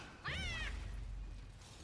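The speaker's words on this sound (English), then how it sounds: "Why does it feel like my cat got sped up?" A pet cat's meow with an unnaturally sped-up, high chirpy quality, one short bending call near the start over a low steady hum, no talking.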